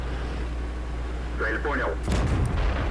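A tank gun firing in World of Tanks, one sharp booming shot near the end after a quiet stretch of engine rumble.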